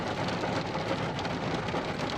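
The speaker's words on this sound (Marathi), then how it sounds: "एकदम धुवाधार पाऊस आहे." Heavy monsoon rain pours in a dense, steady hiss during a drive, loud and continuous with no pauses or voices.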